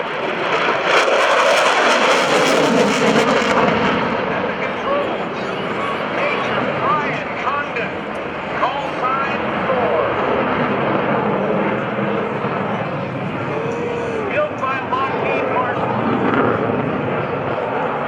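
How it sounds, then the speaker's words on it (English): An F-16 Viper fighter jet from the 20th Fighter Wing flies at the NAS Oceana airshow, a broad, steady jet roar that stays loud for the whole stretch, mixed with crowd noise and an announcer's voice. "It's the F-16 Viper."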